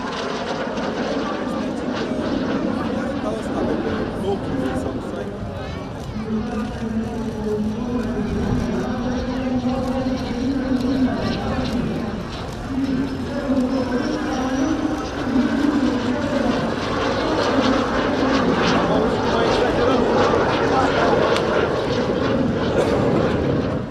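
A military jet trainer from a Serbian aero club flies at a Romanian airshow, its engine a steady, distant roar that swells and shifts in pitch for the whole span, with crowd chatter faintly beneath.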